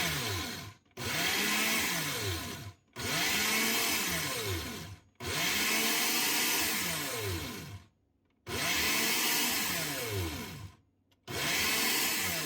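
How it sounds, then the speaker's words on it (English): An Oster 800-watt pulverizing blender (model 2131733) pulsing oats into flour, five loud whirring bursts of about two seconds each, separated by brief silent pauses, close and alone with no voices. "I hit the pulse button so that we can pulverize the oats"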